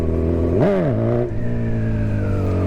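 A motorcycle engine revs up and back down while riding in second gear at about 20 mph, a strong harmonic drone that rises sharply then settles into a steady hum, close and loud throughout.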